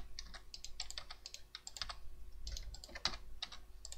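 Clicky typing on a computer keyboard in rapid irregular bursts, close and fairly quiet, with a low steady hum underneath and no voices.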